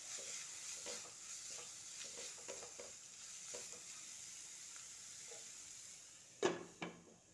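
Carrots cooking in a pan are stirred with a utensil, giving soft, repeated scraping strokes over a faint sizzle, then two sharper knocks close together near the end.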